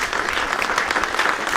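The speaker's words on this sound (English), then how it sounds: "everyone give a round of applause for all of you that asked great questions" A university campus audience at an Atheists for Liberty event breaks into a steady, dense round of applause, many hands clapping together at close range with no talking over it.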